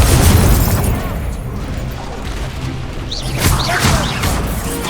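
Repeated Incendio fire spells cast in the Hogwarts Legacy video game, loud bursts and whooshing blasts in a busy, continuous battle mix, with occasional magical swishes and no clear speech.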